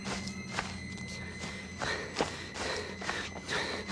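Footsteps tread at an uneven pace in the horror game Outlast Whistleblower, a series of soft, muffled steps that sound fairly distant and faint.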